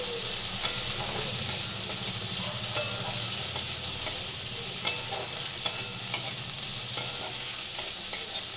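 Jackfruit and shrimp fry in a pan with coconut, green chili, salt and turmeric, giving a constant close sizzle broken by regular clicks and scrapes of stirring.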